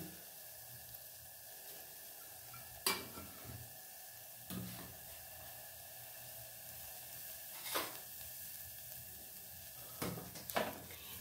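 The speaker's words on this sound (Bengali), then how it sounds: "আমি সমানে এইভাবে নাড়িয়ে যাব চিনিটা যতক্ষণ না পর্যন্ত গলেছে" A spoon stirs masala tea with sugar and tea leaves in a pan over a low gas flame, bringing a steady soft simmering hiss broken by a few scattered clinks and scrapes against the metal, with no voices.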